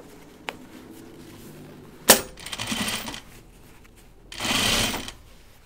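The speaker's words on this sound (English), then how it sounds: "Sink my needle into the seam." A sewing machine stitching a seam on a dopp kit makes two bursts of steady whirring run, preceded by a sharp click and a small tap, all close and alone.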